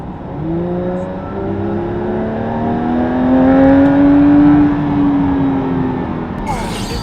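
A Porsche GT3 with a naturally aspirated 4-litre engine revs steadily and loudly, its pitch climbing and holding through the middle before easing off, heard from inside the car with no one talking.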